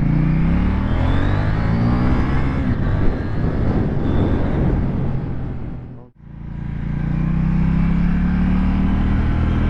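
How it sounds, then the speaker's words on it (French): A KTM Duke 790 A2 motorcycle rides along, its engine and exhaust loud and close as it revs and changes speed, with a brief dip as the throttle closes before pulling again; distinct exhaust pops are hard to pick out. "Ça pétarade derrière, c'est génial."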